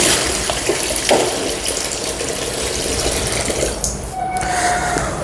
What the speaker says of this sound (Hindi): ये पानी जो है हम आहिस्ता आहिस्ता इसके अंदर डालना शुरू कर देंगे।